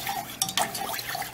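A small disposable wooden chopstick stirs homemade dandelion salve with wax in a container. It makes close scraping, sloshing strokes with a couple of sharper knocks against the side.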